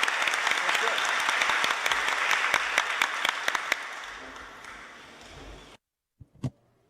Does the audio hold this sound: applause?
yes